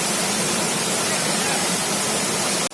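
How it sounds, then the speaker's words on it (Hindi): A waterfall roars from very close at Chunari Fall, a dense, steady rush of falling water that fills the whole sound with no break until an abrupt cut at the end. "बहुत ही नज़दीक झरने के, देख लीजिए ये अभी गिरता हुआ।"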